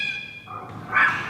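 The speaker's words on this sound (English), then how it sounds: "here you can actually play cat sounds on the exterior, or a dog sound, or a pig and so on" A recorded dog bark plays through the exterior speaker of a 2024 Zeekr X electric car, a short synthetic yelp and whimper lasting about a second, heard alone.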